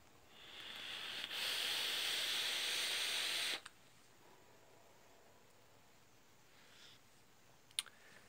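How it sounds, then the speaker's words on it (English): SMOK AL85 vape mod taking a draw, a steady airy hiss and crackle lasting about two seconds after a soft click, then quiet with a faint click and a sharp tick near the end. "I'm going to take a rip off of it to show y'all how rowdy it can get"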